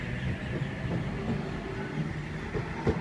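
A Sydney Trains Newcastle service stopping all stations at Cowan station gives a low, steady rumble with faint rail clatter and a few soft knocks, heard at moderate distance with no talk over it.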